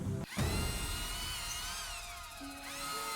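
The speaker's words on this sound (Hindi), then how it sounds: "ड्रिलिंग शुरू हुई।" A drill boring into the Earth's crust for the world's deepest hole starts with a sharp clunk, then settles into a steady mechanical whine that slides up and down in pitch, fairly quiet and with no voices.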